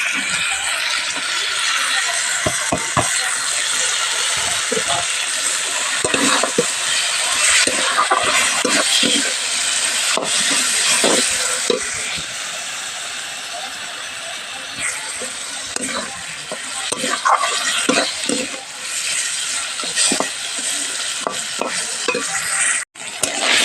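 Squeezed water lily stems are stirred into a spice paste in a pan, producing a long stretch of loud, dense sizzling with repeated scraping and stirring strokes close by.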